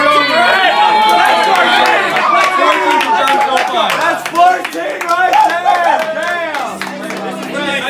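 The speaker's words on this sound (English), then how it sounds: "Really good supporting crowd out here." Supporting crowd at a banana-eating world record attempt, with continuous clapping and cheering that stays loud throughout, mixed with chatter and shouting voices.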